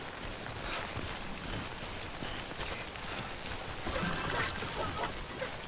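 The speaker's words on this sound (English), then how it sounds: "Timefall accelerates in the passage of time, or for anything it touches." Timefall rain in the video game Death Stranding, a steady broadband hiss of falling drops that holds for several seconds and swells slightly near the end.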